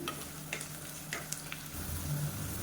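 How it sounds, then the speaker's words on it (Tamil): Onions sauté with cashews and salt in a pan for biryani, giving a soft steady sizzle broken by several scraping stirs of the spoon, close by and with no talking. "இப்போ வெங்காயம் நல்லா வதங்கிடுச்சு."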